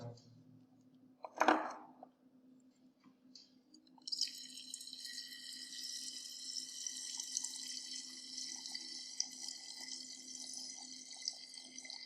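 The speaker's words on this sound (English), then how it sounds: "We have to add up to 90 ml of water." Water poured into a clear conical flask to make up a 90 ml solution, a steady running trickle and splash that starts after a quiet stretch with one brief clink, close and moderately faint.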